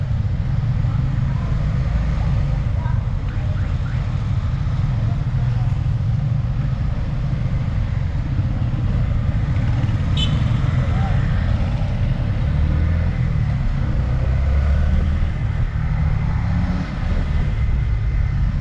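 Riding a 2023 Gixxer 155 Fi motorcycle through road traffic brings a loud, continuous rumble of engine, wind and passing vehicles, steady from start to finish.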